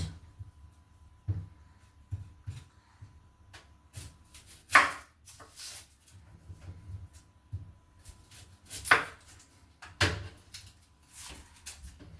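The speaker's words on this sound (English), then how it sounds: "Let's cut our onions." Onions are chopped with a knife on a board in a home kitchen, irregular close thuds and sharp cuts spaced across the clip, with a couple of louder knocks and no talking.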